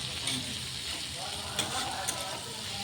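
Food frying in a pan as a steady low sizzle and crackle, with a couple of brief sharper pops, heard close up throughout.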